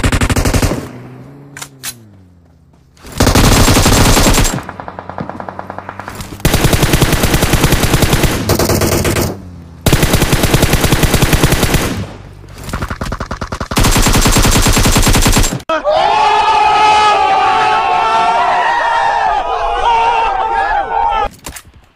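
Bursts of automatic gunfire from an enemy squad in PUBG, several loud sustained volleys broken by short pauses, followed by a steady stretch of game noise and music-like tones near the end.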